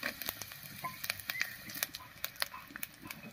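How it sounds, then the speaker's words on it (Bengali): Green chillies, whole coriander seeds and whole cumin sizzle and crackle in hot oil, with sharp close pops and spits scattered over a steady frying hiss. "তেল গরম হয়ে গেছে, তেলের মধ্যে দেব 1 চামচ গোটা ধনিয়া আর 1 চামচ গোটা জিরা। এরপরে দিয়ে দিচ্ছি কয়েকটা কাঁচা লঙ্কা"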